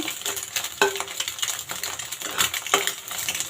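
A spatula scrapes and clinks against a metal pan as a fried egg is lifted out while making street-food-style chicken fried rice, giving a few sharp metallic taps over a light background sizzle.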